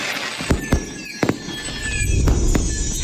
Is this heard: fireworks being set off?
yes